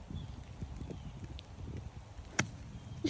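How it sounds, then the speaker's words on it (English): A six iron strikes a golf ball on a rainy course, giving one sharp, brief crack that stands out over steady rain patter and faint background noise. "I'm gonna hit my fourth shot, six iron, cause I'm still a bit ways out."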